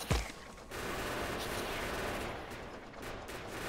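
Artillery fire in the video game Factorio: a single sharp boom at the start, followed by a sustained dense rumble of distant gunfire and explosions, with no talking.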